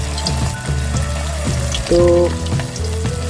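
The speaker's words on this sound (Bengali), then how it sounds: "তো এবার আমি মাঞ্চুরিয়ান বলগুলো ফ্রাই করে নেব" Chicken manchurian balls deep-frying in moderately hot oil, a close bubbling sizzle under a loud low hum, with a brief clatter and a single short spoken word.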